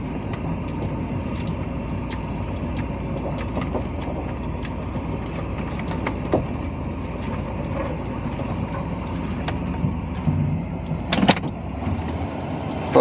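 A 1987 Chevy Suburban R20 with a 454 engine rolls forward under its own power, its engine and road rumble steady from inside the cab, with small clicks and a brief louder surge near the end.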